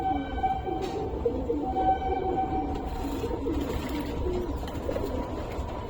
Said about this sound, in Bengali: এই যে আমার সব ফিমেল পায়রা স্নান দিয়েছি আজকে, পুরান লফটের ফিমেল পায়রা।